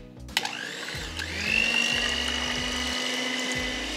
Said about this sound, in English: Right, we're going to give this a whisk together.